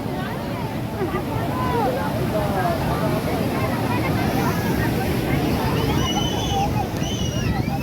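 Sea waves at Puri beach roar constantly and loudly, mixed with heavy wind buffeting, a dense steady wash from start to end.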